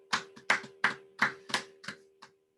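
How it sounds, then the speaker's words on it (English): A few pairs of hands clap at a virtual friendship reception, in about seven sharp, evenly spaced claps that trail off, close and fairly quiet, with no talking. "a big round of applause for all of those performers"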